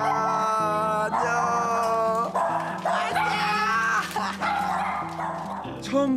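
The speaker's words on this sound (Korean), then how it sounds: "바로 귀여운 강아지 친구들입니다." Several small pet dogs in the yard of a quiet village house bark, yip and whimper excitedly in greeting at a visitor, near and loud, layered over continuous tonal background music.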